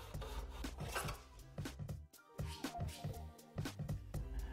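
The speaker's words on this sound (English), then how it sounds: "Use the miter box to saw a 45 degree angle at the end of your first board." A hand saw cuts a 45-degree angle through skirting board in a miter box, giving quick rhythmic rasping back-and-forth strokes close up, with a brief pause midway.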